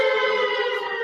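A steady wailing siren, not a police siren, holding a sustained rich harmonic tone, close and loud, alone for about a second.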